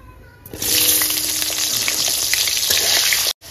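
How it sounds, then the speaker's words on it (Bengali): Potatoes frying in hot oil in a pan give a loud, steady sizzle that begins sharply after a short quiet start and crackles without a break, cutting off abruptly near the end. No one speaks. "এবার আমি এই তেলের মধ্যে আলুগুলো ভেজে তুলে নেব"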